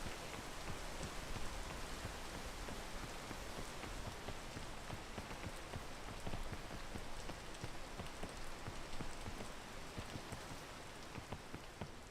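Rain in the video game PEAK falls steadily and evenly, a soft continuous hiss of drops pattering on surfaces, faint and unbroken throughout with no talking.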